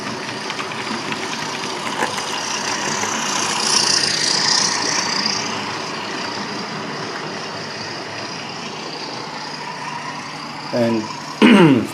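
An R739 breakdown crane truck's engine runs steadily and swells as the vehicle pulls away, a rough diesel drone heard from nearby that fades slightly, with a brief clatter near the end.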